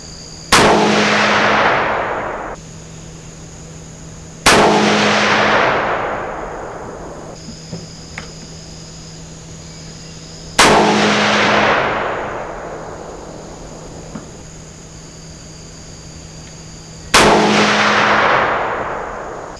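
Four loud, sharp rifle shots from a Bergara B-14 Wilderness Hunter in .308, fired one at a time several seconds apart at a 50-yard range, each crack followed by a fading ring, with no talk.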